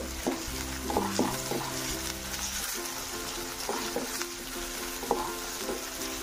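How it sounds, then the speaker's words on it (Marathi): Chopped onion sautéing in a pan for a Chigor vegetable dish, with a steady frying sizzle and occasional stirring scrapes over faint background music. "त्याप्रमाणे आपण कांदा हा छान परतून घेणार आहोत, याचा कलर बदलेपर्यंत।"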